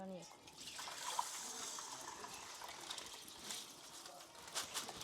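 Ragi grains being rinsed twice in water make a continuous splashing, swishing wash, close and fairly even, with a brief voice at the very start.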